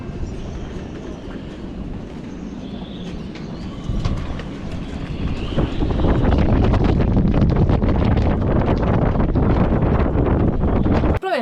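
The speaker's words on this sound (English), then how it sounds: "A gale out there. It's blowing an absolute hoolie." Gale-force wind roaring around a sailboat wintering in Spain, a loud continuous buffeting rush that swells and grows stronger about halfway through, with rattling and gusty thumps layered on top.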